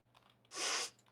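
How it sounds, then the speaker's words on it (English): A single sneeze bursts out mid-clip, a loud, breathy blast lasting about a third of a second against a quiet room with faint background hum. "I also feel a sneeze coming."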